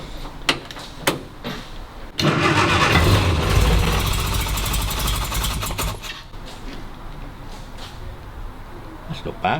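A 1963 Mini Cooper with a 997 engine cranks, catches and starts, followed by a rough, loud idle that gradually settles and fades, with a few sharp clicks before and after.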